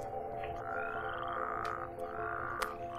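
A frog in the video game Alchemical Familiars: Chaosville croaks in two drawn-out, wet, rising calls over a steady ambient background, with a few soft hop thuds.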